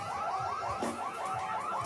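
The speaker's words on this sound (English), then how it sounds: "I'm going to turn it down because that alarm's annoying" A car alarm blares in a fast repeating warble, the siren-like cycles sweeping up and down steadily and loudly, with a brief thud partway through and no talk over it.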